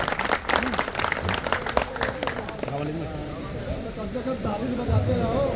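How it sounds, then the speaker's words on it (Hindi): Crowd clapping to welcome a guest at a pigeon flying cup prize distribution, a busy patter of applause at the start that thins out within a few seconds, with a voice and background chatter underneath. "एक जोरदार तालियों से आप उनका स्वागत करिए।"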